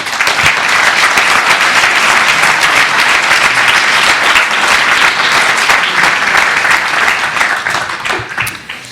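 Dense, loud applause from an audience at the close of a French conference on artificial intelligence, aromas and perfume, sustained for several seconds before tapering at the end.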